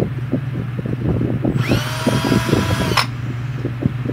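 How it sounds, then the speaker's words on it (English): A power drill whirs loudly for about a second and a half while drilling holes, its motor pitch rising then cutting off, over a constant fan-like hum and scattered knocks. "I'm gonna make some noise here while I drill some holes"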